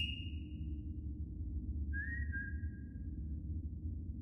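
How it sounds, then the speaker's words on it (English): Two separate whistle blasts sound in a VRChat horror game: a short high tone at the start, then a longer descending whistle about two seconds later, both clear over a steady low background rumble. "Let's use the fucking whistle."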